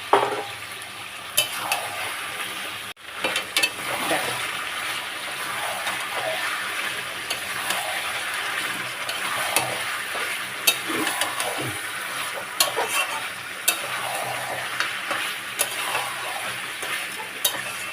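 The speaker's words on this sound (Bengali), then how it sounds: "এই কষা চলছে দেখো বন্ধুরা আমি তো এইভাবে মাংস রান্না করছি" Chicken pieces and potatoes sizzling and frying steadily in a pan while being slowly stirred for kosha, with occasional scraping clicks of the utensil against the metal and no speech.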